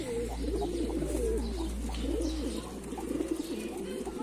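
Mardin pigeons cooing together in a coop, with overlapping soft, rolling coos in continuous warbling phrases over a steady low hum.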